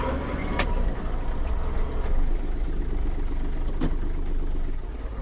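Kubota GL-300 mini tractor with cab, driving and picking up speed, its mid-pitched engine droning steadily and close with a couple of sharp knocks, and no talking.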